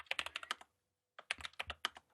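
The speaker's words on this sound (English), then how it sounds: "We're all frantically typing." Frantic typing on computer keyboards, several people hammering keys in quick irregular bursts, close and clear, with a brief pause before the clatter resumes.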